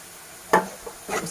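Onions already browned in a pan with a half teaspoon of crushed red chili added, giving a couple of short stirring and sizzling bursts over a quiet background.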